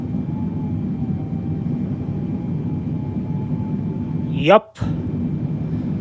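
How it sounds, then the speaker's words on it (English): Boeing 777 engines in Microsoft Flight Simulator 2020 at takeoff, a steady low rumble with a faint high whine throughout, broken near the end by a brief spoken word. "when I move the throttle forward and the airplane starts moving"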